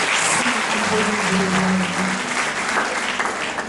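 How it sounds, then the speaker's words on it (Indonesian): Loud applause from a church congregation, steady clapping that fills the space for several seconds before easing slightly toward the end. "kita tepuk tangan bagi Tuhan Yesus"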